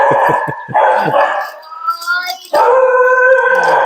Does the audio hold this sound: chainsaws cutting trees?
no